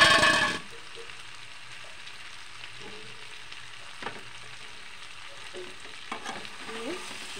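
Dried fish and eggplant fry and get stirred in a pan, opening with a loud sizzling burst that drops to a quieter steady crackle, broken by occasional scrapes and clinks of the spatula.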